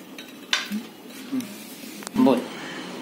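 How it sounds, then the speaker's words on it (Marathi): Ice cubes dropped into a glass of homemade lemon sherbet give a couple of sharp clinks and rattles, one near the start and a louder cluster later, with a voice murmuring in the background. "हे आता मी बर्फ घालते"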